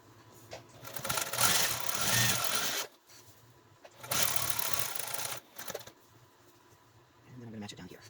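Home sewing machine stitching paper-pieced quilt blocks, sounding in two sustained bursts of whirring stitches with short pauses between them, close by, with a quieter third run at the end.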